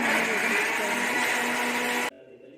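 A mixer grinder whirs loudly and steadily as it grinds sambar masala with water into a smooth paste, then cuts off abruptly near the end, leaving a quiet room.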